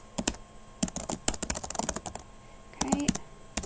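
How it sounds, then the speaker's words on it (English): Computer keyboard typing while entering a trial balance into a blank Excel workbook: quiet bursts of rapid clicks separated by short pauses, with a faint voice briefly audible near the end. "the first thing you want to do is go ahead and start typing"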